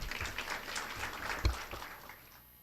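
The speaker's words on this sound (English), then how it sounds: "Please give her a warm round of applause." Faint applause from a conference audience, a soft patter of clapping that fades out toward the end.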